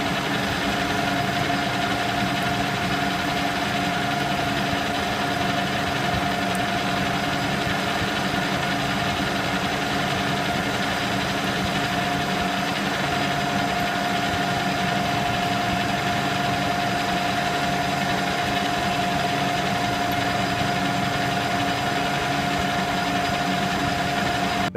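A metal lathe runs steadily at 710 RPM while turning a roto tiller driveshaft, giving a constant machine hum with a faint whine and an even, unbroken texture for the whole stretch.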